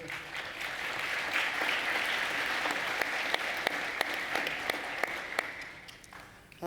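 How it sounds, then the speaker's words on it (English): Conference audience applauding at the close of a session, steady dense clapping throughout with a few sharper individual claps standing out, tapering slightly near the end. "so please, one more round of applause for Pilar and Marlena."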